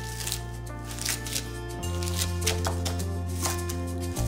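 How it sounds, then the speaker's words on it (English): A knife finely chops kale leaves on a cutting board in a home kitchen, giving quick, soft, crisp cuts in an uneven rhythm over a steady background hum. "now we're gonna chop the kale pretty finely"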